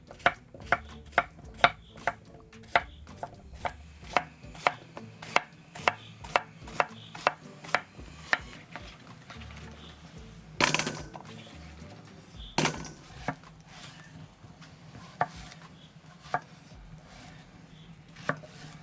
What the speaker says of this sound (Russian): Кабачки мне нужно нарезать достаточно крупно.